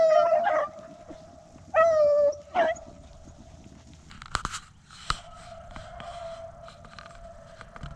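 Beagles chasing a rabbit through a pasture and hedgerow give a few baying howls, loud and fairly close, then fainter yips and rustling in the distance.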